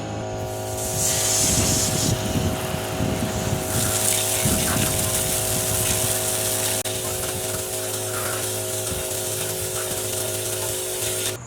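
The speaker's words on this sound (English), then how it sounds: "So I'm going to get the garden hose and we'll spray that off" A garden hose sprays water in a loud, continuous hiss that runs steadily from start to finish.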